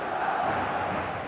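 Stadium crowd in the eFootball video game, a dense, steady roar of many voices that holds evenly throughout without a break.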